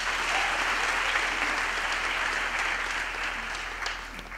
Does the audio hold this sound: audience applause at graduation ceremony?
yes